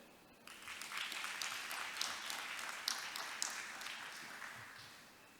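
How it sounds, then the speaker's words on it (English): An audience at a conference session on sustainable development in Africa claps steadily for several seconds, a dense, even patter of many hands that starts abruptly and slowly thins toward the end. "Let's give him another round of applause."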